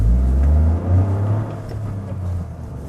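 A 2024 Toyota GR Corolla with a turbo engine and 6-speed manual, heard from inside as a loud, steady low rumble that swells briefly near the start and then settles while driving.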